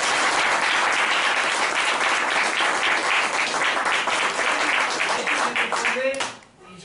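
A lecture audience gives a loud, dense round of applause with many hands clapping steadily, then it fades out near the end.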